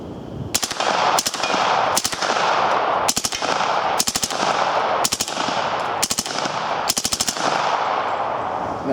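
UMP-40 submachine gun firing on full automatic in eight short, loud bursts spaced about a second apart, with a steady background hum between them and no talking.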